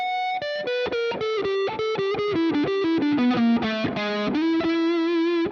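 Distorted electric guitar plays a minor seventh arpeggio lick in a blues solo, a rapid run of clean picked notes descending step by step, with a half-step slide near the end into a held note.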